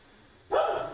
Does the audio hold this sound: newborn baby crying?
no